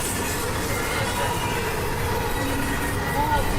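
A CSX freight train rolls past close by, a dense steady rumble of wheels on rail with a brief wheel squeal near the end, with no clear talking over it.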